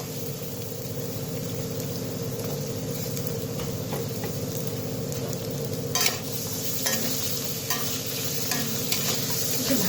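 Jackfruit seeds and stems fry in a hot pan with a steady, dense sizzle, broken by a few stirring scrapes and clinks in the second half.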